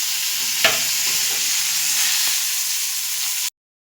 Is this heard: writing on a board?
no